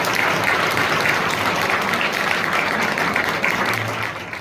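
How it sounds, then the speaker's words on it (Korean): An audience at a school graduation ceremony claps to welcome a speaker to the podium, steady, full applause that fades slightly toward the end. "박수로 환영해 주시기 바랍니다."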